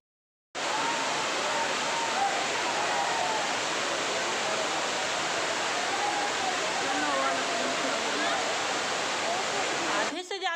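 Steady, loud rush of a waterfall in a tree-lined tourist spot in Chhattisgarh, continuous broadband roar from start to finish with faint voices of bathers and visitors underneath.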